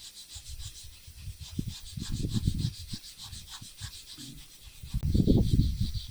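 Rhythmic scraping of sandpaper rubbed back and forth over a stone sculpture in short strokes, close and fairly quiet, with no talking.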